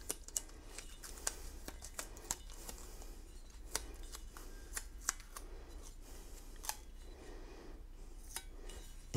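Adhesive tape being pulled and wound around the threaded steerer section of a bicycle frame being prepared for repainting, giving a run of faint close crackling ticks and small sharp snaps over low room hum, with no talking.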